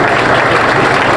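An audience at a political life-and-legacy forum for L. Frederick Wade claps in dense, loud applause that fills the whole short moment, many hands together at an even level.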